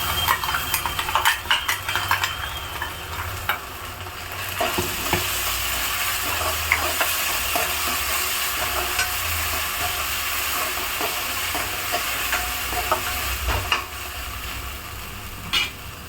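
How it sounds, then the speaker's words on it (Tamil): Ginger garlic paste sautéing in hot oil, with a steady, close sizzle and frying crackle running throughout and occasional stirring scrapes. "நல்லா பச்சை வாசனை போக வதக்கணுங்க"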